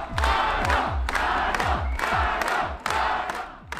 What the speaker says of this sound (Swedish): Stämningen var elektrisk och jublet visste inga gränser när partiledaren och nästa statsministern Erna Solberg klev upp på scenen.